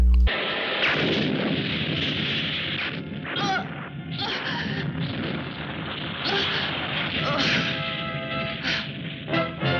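Missiles strike in a monster movie battle, bursting into a dense, continuous roar of blasts and crashes that stays loud throughout, with sharp impacts rising above the rumbling din.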